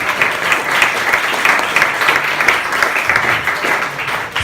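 Steady applause from an audience at a startup pitch night greets the announced winner, dense and sustained clapping filling the room without break.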